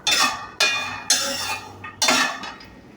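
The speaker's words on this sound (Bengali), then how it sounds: "অল্প আঁচে আমি এই বাদামগুলো আস্তে আস্তে করে ভেজে নিতে আসি" Almonds, pistachios and peanuts roast over low heat in a pan and are stirred in four separate bursts of dry rattling and scraping, each fading off before the next begins.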